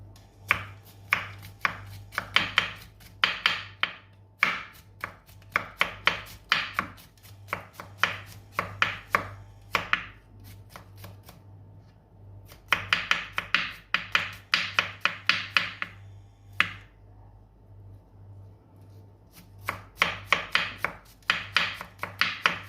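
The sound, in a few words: knife chopping garlic into tiny bits on cutting board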